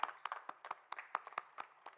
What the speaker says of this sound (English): Can you have a round of applause for all parents?